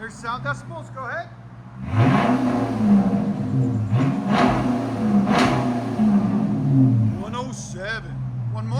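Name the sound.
Chrysler 300 C 5.7L V8 revving with NTR race mufflers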